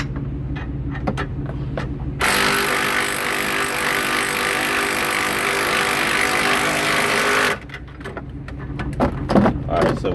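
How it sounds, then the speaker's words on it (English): A 3/8 inch impact gun works a front strut bolt on a 2004-2008 Chrysler, one loud continuous burst of about five seconds, with quieter tool clatter before and after. "Then the next one, I'll try to get in there with my 3/8 gun."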